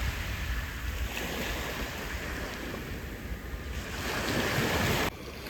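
A fishing boat heads out to sea off Malvan, heard as steady surf and wind rushing against the microphone, a broad continuous wash that drops abruptly near the end.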